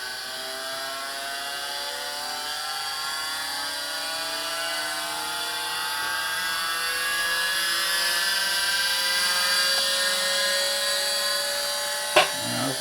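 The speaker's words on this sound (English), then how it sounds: "Gyroscopes are spinning." Gyroscopes on the Vimana craft prototype B spinning up, a whirring mechanical drone whose tones rise steadily in pitch as they gain speed, ending with a sharp click.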